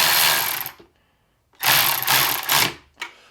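A Milwaukee M12 3/8-inch cordless ratchet running while refitting a throttle body onto ABS plastic, in two close, loud whirring bursts separated by a brief pause.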